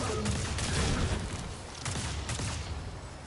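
Rocket launcher fire and explosions in Destiny 2 (Beyond Light), a dense wash of booming blasts and crackling impacts, loud and continuous with a few sharper hits standing out.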